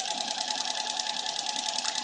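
A sewing machine runs steadily through thick rag quilt fabric, three layers deep, at a long stitch length, its whirring hum loud, close and continuous with no talking over it.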